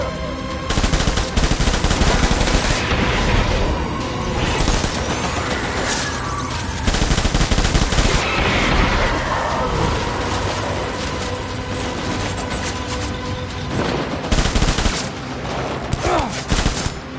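Heavy, continuous volleys of gunfire roar at close range through most of the stretch, with dense overlapping shots and brief lulls between bursts.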